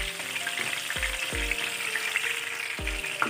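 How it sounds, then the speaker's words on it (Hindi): Chicken pieces frying slowly in hot oil over low heat, a steady close sizzle with soft crackle and a few low knocks from handling the pan. "इन्हें अच्छे से फ्राई कर लेते हैं। वो धीमी आंच पे फ्राई कीजिएगा"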